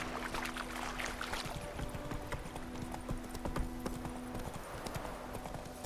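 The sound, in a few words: horse Roach galloping in The Witcher 3 video game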